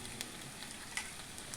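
Onion and garlic masala fries in a pan for a Mughlai chicken dish, a faint, even sizzle with a few soft crackles and pops.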